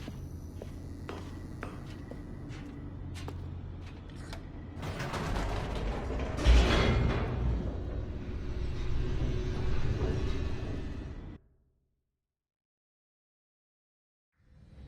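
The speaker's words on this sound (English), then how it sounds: "The elevator raced downward, plummeting towards an unknown fate." Creaking, clanking elevator machinery in The Stanley Parable descends with ratcheting gear clicks and a swelling mechanical rumble, then cuts off abruptly into silence before a faint return at the end.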